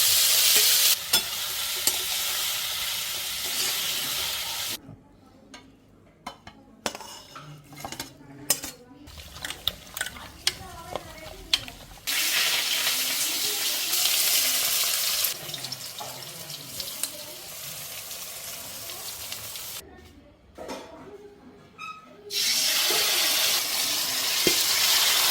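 Half-boiled drumstick flowers fry in a pan with bursts of loud hissing sizzle that cut out into quieter stretches of clinking and stirring, then the sizzle returns loud near the end.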